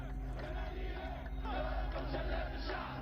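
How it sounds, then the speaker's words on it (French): Massive protest crowd in Tunis during the Tunisian revolution, a roaring mass of voices chanting and shouting together, loud, dense and continuous throughout the short stretch. "Vous êtes en train d'assister à la toute première manifestation de masse dans la capitale tunisienne depuis le début des événements."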